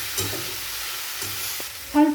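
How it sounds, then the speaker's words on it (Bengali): Vegetables and chopped tomato stir-fried in a pan, a low sizzle under occasional scraping stirs, close and fairly quiet, ending in a brief louder clatter. "সবজির সঙ্গে টমেটো ভালোভাবে কষে নেব।"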